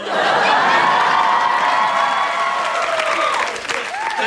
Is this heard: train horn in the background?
no